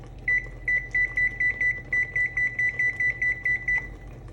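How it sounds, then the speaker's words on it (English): A kitchen timer beeps in a kitchen during cooking, a long even run of about fifteen short, bright electronic beeps at a steady pace, near and clear with no talking. "So we could do kitchen timer."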